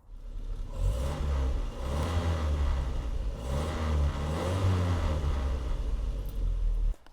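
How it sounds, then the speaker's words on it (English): Land Rover Series 3 engine with a stainless steel exhaust revving loudly and steadily up close, a deep throaty roar rising and falling through several blips, alone with no talk. "This thing, when you rev it, sounds fantastic."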